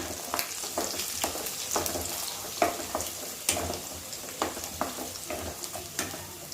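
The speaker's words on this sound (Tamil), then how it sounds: "சின்ன வெங்காயம், பூண்டு, கருவேப்பிலை இதெல்லாம் சேர்ந்து எண்ணெயில் பொரியும் போது" Small shallots, whole garlic and curry leaves frying in oil, making a busy crackling sizzle with frequent sharp pops and spatters over a steady hiss, fairly close and loud, with no speech.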